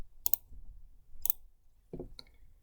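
A computer mouse clicks crisply in a few separate taps while an app is dragged around a screen, close and sharp in an otherwise quiet room.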